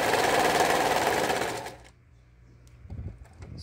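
A sewing machine stitches a bird appliqué, running as a loud, steady mechanical whir for about a second and a half before stopping abruptly, leaving a quieter stretch with faint handling noises.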